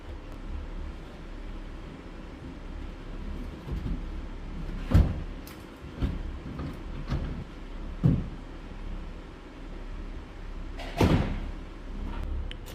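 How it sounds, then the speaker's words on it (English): Door being removed from a Volkswagen T4 van: a few scattered metallic clunks and knocks of the door and hinge against a low background hum, with quiet gaps between the hits. "there we go, door's now off."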